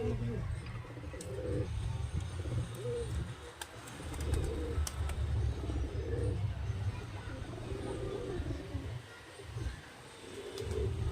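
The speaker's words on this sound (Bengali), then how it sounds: "এটা হচ্ছে আমাদের মাদি পায়রাটা ফ্রেন্ডস" A female pigeon of a fancy breed coos in soft, repeated low rounds near the microphone, the rhythmic calls pulsing steadily over faint outdoor background noise.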